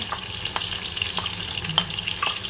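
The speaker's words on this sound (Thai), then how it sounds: "เราก็เริ่มเอา พวกแครอทแล้วก็เครื่องเคียงของเราลงไปผัดได้เลยนะคะ" Carrots and side vegetables are stir-fried with browned beef in a hot pan for a German pot roast, giving a steady close sizzle with light scraping stirs.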